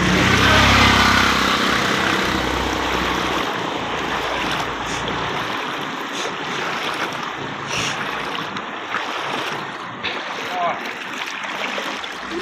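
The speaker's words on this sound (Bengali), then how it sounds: "কুশিয়ারা থেকে সরাসরি এখানে পানি প্রবেশ করছে" Floodwater from the Kushiyara river pours in over a flooded stretch of Balaganj, a steady broad rush of moving water that runs continuously throughout, loud and close, with some wind-like noise mixed in.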